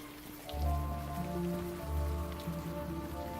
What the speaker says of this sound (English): Raindrops on the ground.